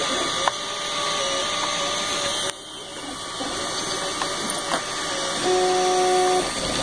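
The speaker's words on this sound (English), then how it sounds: "one more time just to show the speed that I'm printing at" A 3D printer printing a NASA wrench, its stepper motors whining in shifting tones with small clicks over a steady fan hum.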